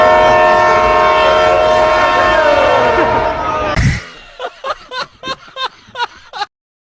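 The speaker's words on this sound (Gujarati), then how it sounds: "ટ્રેનના ડબ્બા બધા આવ્યા" Train horn blasting steadily near a crowded fair at Madhavpur, then cutting off, followed by a series of short rhythmic bursts as the train cars roll in.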